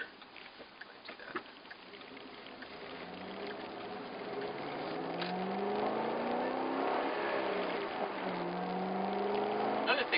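A supercharged 2011 Mustang Cobra engine pulls hard from inside the car, a low drone climbing steadily in pitch and loudness over several seconds, with rising whine-like tones layered above the rumble.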